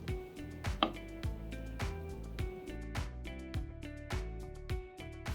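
Veg poha bhujing gets mixed in a bowl at a Virar street food stall, a steady run of sharp metallic scrapes and clanks with a clear repeating rhythm, close and alone.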